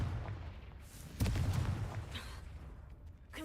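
A Confringo spell cast in Hogwarts Legacy goes off as a single booming, blast-like burst partway through, set over a low rumbling game ambience with no talking.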